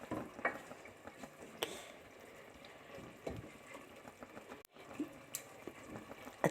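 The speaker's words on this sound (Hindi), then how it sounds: "दाल को करेंगे हम मिक्स अपनी" Soaked mash dal is stirred into a frying pan, giving soft scraping and wet shuffling with faint sizzle and occasional spoon knocks, quiet and close, without any talking.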